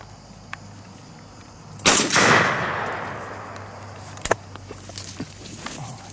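A single loud shotgun blast during an outdoor dove hunt, sharp and close, followed by a long fading echo and a fainter second report a couple of seconds later.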